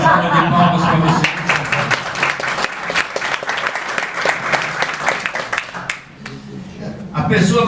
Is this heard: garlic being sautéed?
no